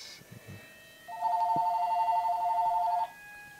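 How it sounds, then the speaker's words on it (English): A phone rings during a Higurashi When They Cry Hou visual novel playthrough, a steady electronic warble lasting about two seconds, fairly loud and close, after a short stretch of quiet background. "Phone call, as usual."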